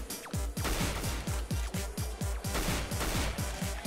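Rapid automatic gunfire in a CS:GO minigame: a fast, evenly spaced string of sharp shots, about a dozen in under four seconds, loud and close with no talk.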